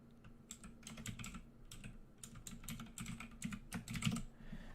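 Quick, uneven bursts of typing on a computer keyboard, the keys clicking close and crisp in short runs with brief pauses and no talk.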